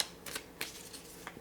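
Tarot cards being shuffled by hand, soft papery riffles and flicks in quick bursts, close and quiet with no talk.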